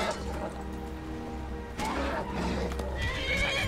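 Horse in the Skyrim video game whinnying and snorting with clip-clopping hooves and combat clatter, fairly close and busy throughout with no speech.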